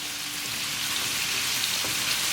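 Pieces of ono fish fry in a pan for curry, giving a steady, close, even sizzle with light crackling throughout and no voices.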